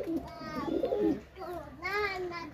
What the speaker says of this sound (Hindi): ये ललसरे कबूतर हैं, लाखे कबूतर हैं